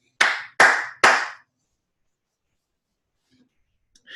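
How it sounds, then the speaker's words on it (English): Three sharp hand claps in quick succession from people on a podcast, each ringing out briefly before near silence, with a faint murmur at the end. "give a couple claps"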